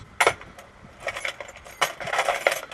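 A set of replacement keys for a euro lock cylinder jangles close by in a few separate bursts of metallic clinking and rattling, with quiet gaps between handlings.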